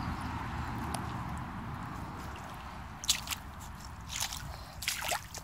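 Footsteps squelch through soft, wet mud in a creek: a few brief, close wet squishes and drips, clustered late in the clip, over a steady low murmur of background noise.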